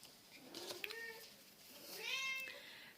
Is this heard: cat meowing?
yes